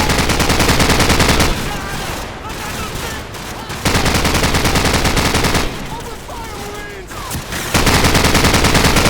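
Sustained machine gun fire in Call of Duty 4, loud continuous bursts alternating with quieter stretches where radio-style voices and whizzing sounds come through, the heavy firing returning in waves.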